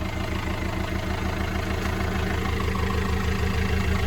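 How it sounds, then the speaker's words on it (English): Boat engine idling steadily while warming up after starting, a continuous low rumbling throb with an even pulsing rhythm, loud and close, with no voices. "now I'm gonna go up top and I'm gonna throttle the engine up"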